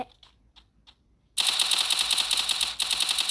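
Automatic gunfire in the video game Free Fire: a few faint ticks, then a sudden loud, rapid stream of shots lasting about two seconds with a brief break before more firing.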